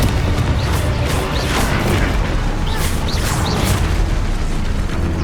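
Repeated bursts and booms from spells in the Hogwarts Legacy video game, including the Expulso explosion spell, sounding loud and close in a steady barrage of magical blasts with sharp whooshing accents.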